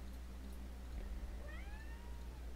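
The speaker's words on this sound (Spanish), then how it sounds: "Sí, es mi gato, está chingando la madre" A house cat meows once, rising and drawn out, faint and indoors under a steady low hum of background noise, with no talking.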